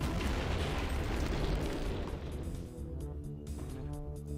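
A large explosion in the video game Heretic, a loud rumbling blast that fills the start and slowly decays into a lingering roar, with musical tones emerging as it fades.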